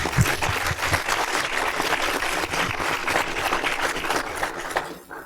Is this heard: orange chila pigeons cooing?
no